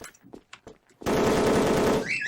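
Rapid automatic gunfire from a cheating player's gun in the online shooter WolfTeam, a dense, loud continuous burst lasting about a second after a few scattered softer shots.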